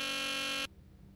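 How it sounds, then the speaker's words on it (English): A loud, steady electronic alarm buzzer from the Nancy Drew game The Deadly Device drones without a break, then cuts off abruptly, leaving only faint room noise. "This was not what I expected when I set the alarm."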